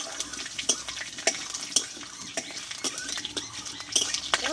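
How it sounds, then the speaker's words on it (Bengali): Green chili, a bay leaf and half a spoon of panch phoron fry in hot oil, with a soft crackling sizzle broken up by sharp clinks and scrapes of a spoon against the pan. "ফোড়নটা ভালোভাবে ভেজে নিয়েছি"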